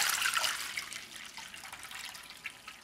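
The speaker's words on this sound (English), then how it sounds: "Now we'll add the water, 1 quart of water." Water pouring from a container into a pot while making a sesame salad dressing, a soft continuous splashing trickle, fairly faint and without speech.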